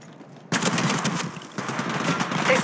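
Automatic weapon fire in Apex Legends Mobile, a sudden loud burst of rapid shots with a second stream of gunfire following moments later, close and sharp.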